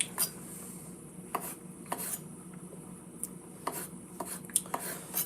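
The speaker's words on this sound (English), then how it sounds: "I'm doing a very good job of slicing these here olives." A knife slicing olives on a board in a home kitchen while making a layered party dip, giving soft intermittent taps and clicks spaced irregularly, fairly faint against a quiet background.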